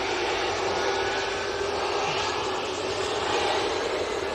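Boeing 777 airliner at Manchester Airport, a steady broadband jet engine roar held at constant loudness throughout, somewhat distant with no speech.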